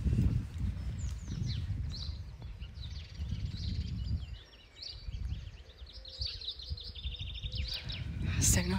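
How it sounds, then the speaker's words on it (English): Birds chirp and trill intermittently outdoors at a moderate distance on a morning walk, heard over steady low rumbling wind and handling noise. "Can you hear the birds?"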